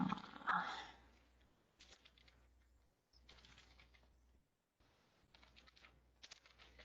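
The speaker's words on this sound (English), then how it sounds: "My typing's not great." Someone types on a computer keyboard in quick bursts of clicks separated by short pauses, fairly soft and close, with no speech over it.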